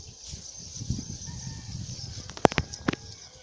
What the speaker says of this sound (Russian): Где-то были еще куры.